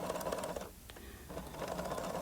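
A sewing machine hums in a close, steady run as it stitches along a straight drawn line, pausing briefly in the middle before resuming at the same pace, with no voices.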